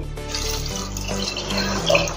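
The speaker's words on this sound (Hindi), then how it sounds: "पानी हमने निकाला था राजमा का, वो इसमें डाल देंगे।" Rajma cooking water pours and splashes into a pot in a steady stream, close and fairly loud, with a faint clink near the end and no voices.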